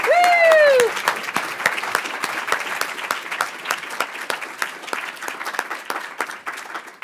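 Audience applause at a community organizing session, opening with a loud whooping cheer, then sparse, distinct claps continuing steadily from a small group.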